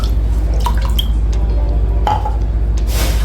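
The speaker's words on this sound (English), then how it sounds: "Cover with some water. Ensure the water covers your almond" Water poured over almonds in a bowl gives a low continuous splashing rush with scattered drips and light clinks, close and fairly loud, with no talking.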